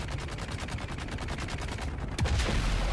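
Rapid automatic gunfire in Dune: Awakening, a steady fast stream of evenly spaced shots rattling for about two seconds, ending in a heavier blast with a low rumble.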